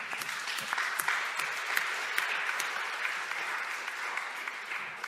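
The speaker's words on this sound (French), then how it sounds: "Vous pouvez l'applaudir." Colloquium attendees at a conference on European Union solidarity give a speaker a steady, moderately loud round of clapping with sharp individual claps standing out.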